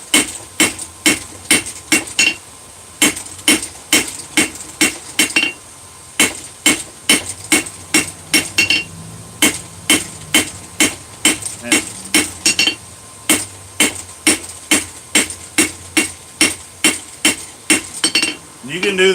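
Hot steel hammered on an anvil to forge a reverse taper, with a long steady run of loud, ringing metallic strikes close by, about two blows per second, with brief pauses between series.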